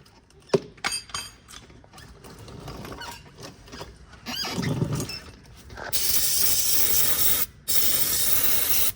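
Some clattering and rattling are followed by two long, loud hissing blasts from a spray can during work on a fourth-generation Cummins diesel truck, broken by a short pause.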